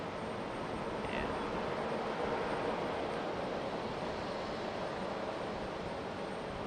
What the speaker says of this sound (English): Delta A319 making its way